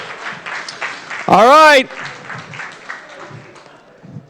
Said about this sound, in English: Everybody give Ryan a round of applause.